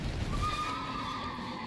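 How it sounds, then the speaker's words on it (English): A horse in the video game Elden Ring neighs after being struck: one loud, close whinny with a falling pitch that runs the full length, with no talk over it. "I'll smack your horse then"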